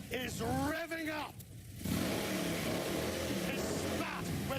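Someone speaks briefly before a Harley-Davidson motorcycle engine revs loudly, a rough, sustained roar that fills the rest of the moment.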